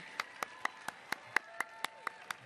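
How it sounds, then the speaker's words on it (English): Sparse, evenly spaced single claps at an outdoor One Billion Rising rally in Los Angeles, about ten sharp hand claps in a steady rhythm, faint and somewhat distant. "Round of applause again."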